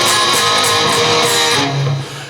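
Loud, sustained electric guitar chords from a song, each chord struck twice, ringing close and full, then trailing off into a lower held note.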